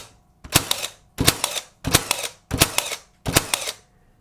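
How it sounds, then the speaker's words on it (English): A Milwaukee M18 Fuel cordless brad and finish nailer bump-fires nails into wood, five sharp loud mechanical shots in an even rhythm about two-thirds of a second apart, each with a brief whirring cycle, close up and without talk. "it lets me fire each shot single-handed with consistent results"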